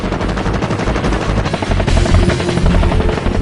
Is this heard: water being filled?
no